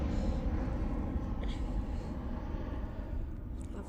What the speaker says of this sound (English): Beautiful CFM engines.